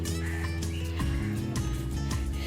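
Male pigeons cooing on a sunny rooftop: low, throaty, repeated burbling calls overlapping close by, with no talking.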